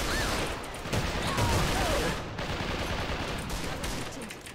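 Sustained automatic fire from an SA58 Para Glass rifle in AVA, a dense, unbroken rattle of rapid shots lasting the whole stretch, with a voice talking faintly underneath.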